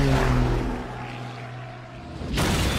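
Propeller drone of a German warplane arriving to drop bombs in a wartime scene, a steady droning engine hum that fades down and then swells sharply again near the end.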